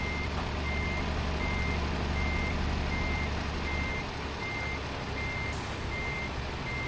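Steady, evenly spaced reversing beeps from a truck in Euro Truck Simulator 2, repeating throughout over a constant loud engine rumble, with no talking.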